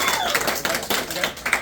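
A small studio audience claps for a celebration day, the hand claps broad and fairly close, with a voice carrying over them.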